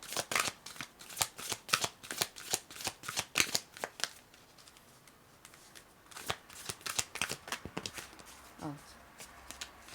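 Sacred Geometry oracle cards are shuffled by hand in a quick run of crisp, papery riffling clicks, then a looser, softer patter of cards near the end.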